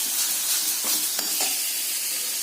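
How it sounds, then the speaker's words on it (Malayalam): Sliced onions with salt sizzle in a hot pan for a roast, giving a soft continuous frying hiss broken by a few scraping stirs of a spoon, close by and with no talking. "റോസ്റ്റ് ഉണ്ടാക്കാൻ സവാളയിലേക്ക് ഉപ്പിട്ടിട്ട് നോക്കിക്കുന്നു"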